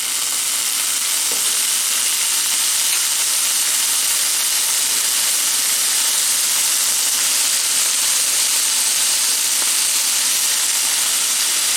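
Frozen sliced bell peppers and onions from Dollar Tree hiss and sizzle loudly and steadily in a hot pan, with occasional stirring clicks and no talking.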